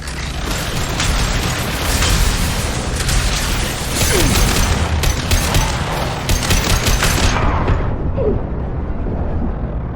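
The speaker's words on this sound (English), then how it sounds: "Firing an impact shot." Impact shot gunfire in the video game Mass Effect 2, heard as loud, dense volleys of shots and booming blasts that run almost continuously before tailing off near the end.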